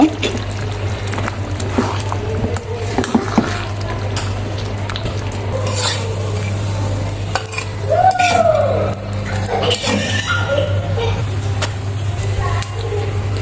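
Beef curry is tipped from a pot into a frying pan with scraping and clattering of cookware, soft wet pouring and a few clinks, close by over a steady low hum, with brief talking at times.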